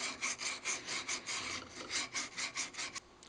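Sandpaper rasping against a spinning natural-edge wooden bowl on a lathe, a close, steady rhythmic scratching that pulses about three times per second, with no talking.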